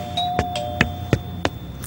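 A doorbell rings in a Turkish television drama scene, a sustained tone with several sharp, evenly spaced chimes or knocks repeating about every third of a second, loud and close with no talk.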